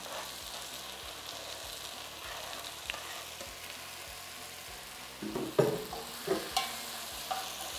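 Chunks of fried egg go into a sizzling pan and are stirred, a soft steady fry that turns louder with scraping and clattering stirs in the latter half.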